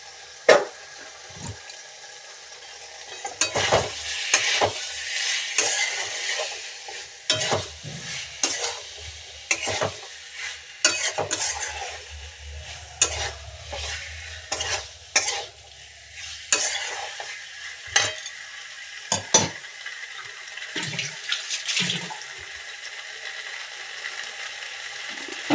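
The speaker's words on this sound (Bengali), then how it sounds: "নাড়াচাড়া করতে হবে। বেগুনটাও দিয়ে দিতে হবে।" Eggplant frying with shrimp and potatoes, a soft steady sizzle under repeated scraping and clattering stirs in the pan that recur through the whole stretch.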